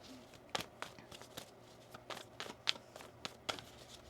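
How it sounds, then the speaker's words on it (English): Tarot cards being shuffled by hand in short, crisp bursts, a series of quiet riffling flicks spaced irregularly with pauses between them. "One more shuffle here."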